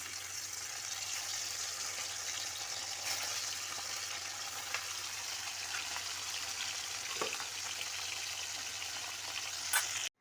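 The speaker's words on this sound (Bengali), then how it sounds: "তেল গরম হয়ে গেছে, মাছটা তুলে দিচ্ছি" Continuous, even frying sizzle of bhola fish in hot mustard oil with occasional small crackles and pops, steady throughout with no talking.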